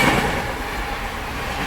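The 13147 Uttarbanga Express rolls out of Sealdah station, bound for Bamanhat, with a loud, continuous rumble of wheels on the rails.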